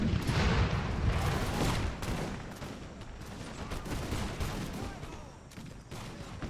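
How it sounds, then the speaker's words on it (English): Musket volleys from cavalry dragoons and infantry lines in the Imperial Splendour battle game, a dense crackling fusillade of overlapping shots that runs without a break under a low rumbling din. "our Dragoons are just going to start taking shots at their general"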